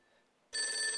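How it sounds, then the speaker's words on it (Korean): An old-style telephone bell starts ringing abruptly after a half-second of near silence, a bright continuous metallic ring that is fairly loud and close, with no voices over it. "이렇게 계속해서 벨이 울리는 거 보니까 당국의 전화가 분명해"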